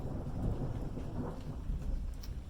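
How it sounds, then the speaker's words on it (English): A low rumble of thunder rolls beneath steady rain hiss, with scattered drops pattering nearby throughout. "it's starting to rain and we're getting a thunder and lightning storm"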